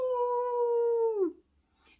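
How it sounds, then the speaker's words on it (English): A single coyote howl in open desert country, a clear sustained tonal cry that holds steady, then bends downward and fades out, followed by a brief quiet rustle. "A coyote howled in the distance."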